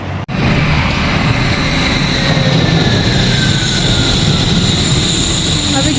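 Wuppertal Schwebebahn suspension monorail train passing close by, a loud sustained rumbling roar with a steady high whine, starting abruptly and holding for several seconds.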